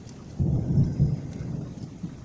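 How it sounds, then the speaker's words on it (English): Deep thunder rolls through a severe thunderstorm with intense lightning, a long low rumble that swells early and stays loud before easing off, with rain hissing faintly beneath it. "That rolled right across the sky."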